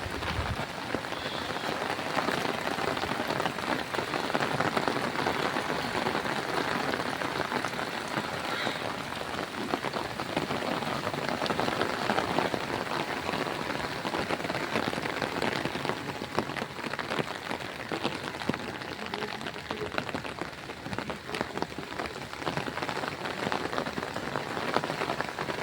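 Steady rain pouring on a farm in Batangas during the rainy season, newly planted sugarcane nearby, a dense unbroken patter of drops that stays loud and even throughout, with no talk.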